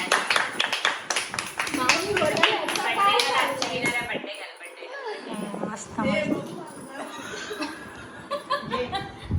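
Scattered hand claps for the winner of a no-mirror makeup game among family, mixed with laughter and chatter through the first few seconds, then mostly talk.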